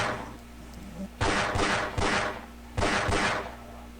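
Pistol shots in Half-Life: Opposing Force, fired as a few sharp bursts: two or three quick cracks near the middle, then another pair toward the end, over a steady low game hum.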